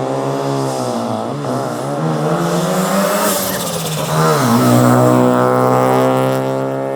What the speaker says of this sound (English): this car is insanely loud